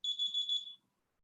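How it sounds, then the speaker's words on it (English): Alarm beeping, a rapid burst of high electronic chirps for under a second, fairly faint and alone before falling silent. "I'm sorry, but there was an alarm."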